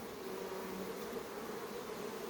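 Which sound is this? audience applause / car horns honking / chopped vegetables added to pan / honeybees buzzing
honeybees buzzing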